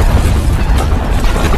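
A loud, rumbling bomb explosion in a film roars continuously with heavy low-end boom and crackling debris, with no voices.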